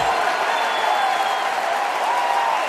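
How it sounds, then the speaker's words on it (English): A baseball crowd at Comerica Park in Detroit, during a Tigers game against Pittsburgh, roars steadily through a two-strike count, with a continuous wash of cheering and applause. "Here comes the crowd again."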